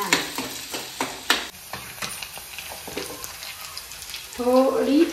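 Chopped onion hitting a hot pan, with scraping and stirring clatter giving way to a steady sizzle, then a rising fry toward the end, close and moderately loud.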